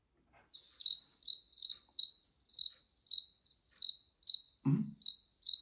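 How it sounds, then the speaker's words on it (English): Crickets chirp in short, regular pulses, about a dozen evenly spaced trills, with one brief low thump near the end. "Crickets"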